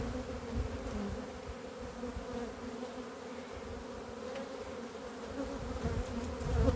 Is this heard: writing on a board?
no